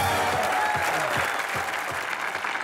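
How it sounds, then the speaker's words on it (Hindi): Studio audience applause on the comedy show Comedy Nights with Kapil, a dense, sustained roar of many hands clapping with faint voices mixed in, loud and continuous. "जोरदार ताली इनके लिए।"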